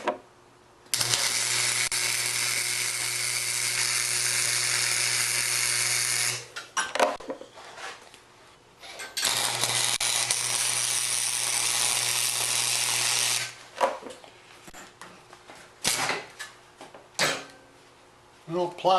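A 110 volt wire welder buzzes and crackles steadily in two long bursts, followed by shorter sputtering bursts and clanks, fairly close, with no talking over it.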